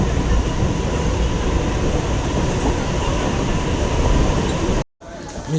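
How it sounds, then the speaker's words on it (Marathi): Mumbai local train heading toward Bhandup station, a loud continuous rumble and rattle of the moving carriage with steady wheel noise, heard from inside, cutting off abruptly near the end before quieter ambient sound. "मी ट्रेन निघाली आहे."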